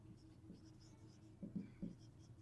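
Pen writing numbers on paper while solving a math exercise, soft scratchy strokes in short bursts, brief and faint, with a quiet low hum in the background.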